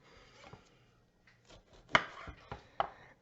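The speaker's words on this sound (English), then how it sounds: "We just want to chop the tops off of all the peppers to go ahead and begin with." A knife chops the tops off serrano and poblano peppers on a cutting board, a handful of sharp, separate thuds spaced irregularly, close and fairly quiet.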